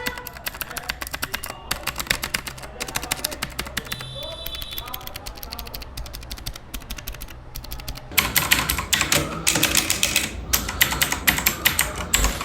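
Rapid, clicky keystrokes on a Cosmic Byte Neon CB GK 12 mechanical keyboard with blue switches rattle close up, with a dense irregular rhythm that turns faster and louder toward the end.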